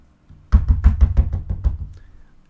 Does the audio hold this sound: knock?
yes